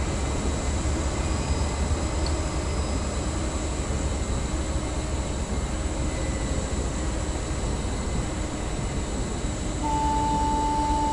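A West Coast Main Line train in Train Simulator rolls past with a steady, even rumble and hiss. It holds constant at moderate level throughout, and a faint tone enters near the end.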